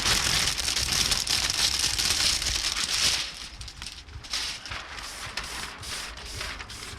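Water sprays in a steady, broad hiss against a car window for about three seconds, then breaks into short, repeated bursts of spray with brief pauses between them.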